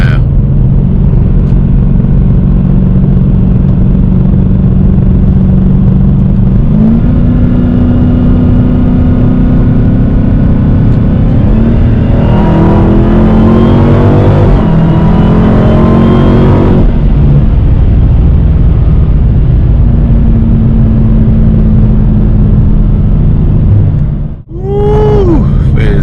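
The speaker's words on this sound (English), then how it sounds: "of course the exhaust sounds amazing, but that supercharger whine sounds amazing too" A Dodge Challenger Hellcat's deep exhaust rumbles steadily and close, with a rising supercharger whine swelling over it midway before easing back.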